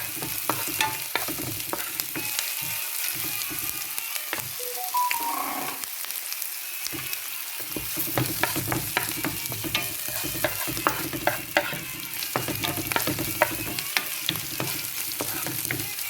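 Beetroot sautéing in a pan with steady sizzling and repeated stirring scrapes, close and continuous throughout with no talking.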